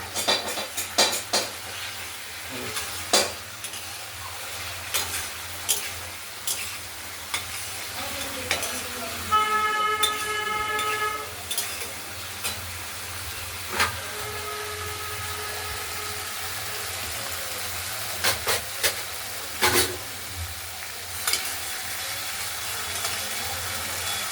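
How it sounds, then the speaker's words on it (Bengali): Spice paste sizzles steadily in hot oil in a pan as it is fried down for a spicy rohu fish and potato curry, with repeated scraping stirs and no talking. "মশলাটা কষানো হচ্ছে, কষে প্রায় হয়েছে, আর একটু হওয়া বাকি আছে।"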